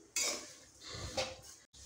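Vermicelli fried in small batches in a pan over a very low gas flame, stirred with a utensil: close scraping and clinking against the pan, with a sharp knock near the end.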